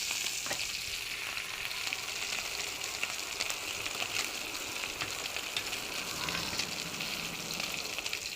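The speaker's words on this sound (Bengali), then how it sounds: "তারপর আমি মাছগুলো ভেজে নিব" Tangra fish frying in hot oil, a steady dense sizzle and crackle with scattered pops, close and continuous throughout with no voices.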